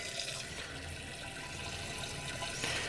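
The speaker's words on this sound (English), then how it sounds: "So I'm actually going to fill this up." A hose runs water into a rinse tub in a steady, even rush of filling water, continuous and moderately close with no voices.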